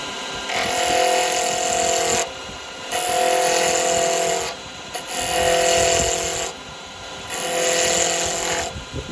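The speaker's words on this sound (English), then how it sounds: "I'm going to come in with old gouge just to" Woodturning gouge cutting square wood stock on a lathe while making Christmas ornaments, a loud steady whirring cut in four long passes with short pauses between, close and without talk.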